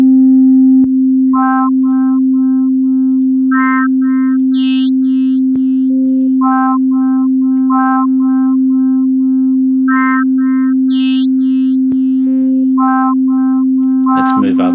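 A single isolated partial from a sample in the iZotope Iris 2 sample-based synth, a steady pure sine-like tone held for the whole stretch, with faint repeated chirping blips above it and a brief burst of noise at the very end.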